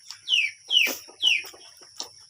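A chicken gives a few distinct, close clucks in a quick, uneven series, with faint background noise and a soft steady tone behind it.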